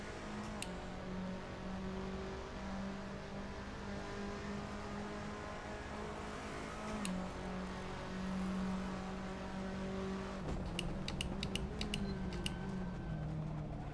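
A race car engine in a racing video game set at Lausitzring hums steadily at high revs, the pitch shifting with gear changes, fairly faint and continuous, with some ticking clicks near the end.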